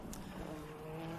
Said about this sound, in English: he's a little late on the brakes, locking him up